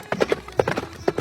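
Horse hooves clip-clop steadily as a disguised king rides out on horseback in a cartoon tale, a string of fairly close, evenly paced hoof strikes with no talking over them.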